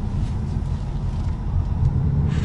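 A 2019 Ford Mustang GT Premium making a U-turn, heard from inside as a steady low engine rumble with road noise, close and continuous.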